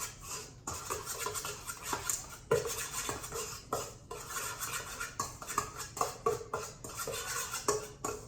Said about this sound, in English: And you're just gonna mix that up with the dry ingredients really well.